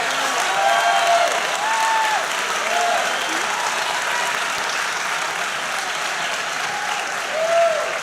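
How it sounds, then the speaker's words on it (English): Audience applause at a political rally fills the whole stretch, steady and dense, with a few cheers and whistles rising above the clapping and a voice or two faintly underneath. "A round of applause."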